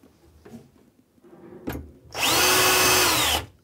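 A power drill drives screws through the frame fixing brackets of a Cooke & Lewis kitchen unit door. Faint handling knocks come first, then a loud, close, steady whirr lasting more than a second.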